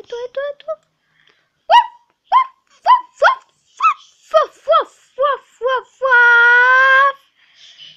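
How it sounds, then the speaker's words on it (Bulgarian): A dog barks in a quick series of sharp, close, loud yelps, ending in a longer drawn-out howling whine, with quiet gaps between the barks. "Ето това е нашето куче."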